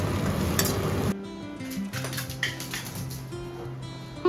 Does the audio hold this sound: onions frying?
yes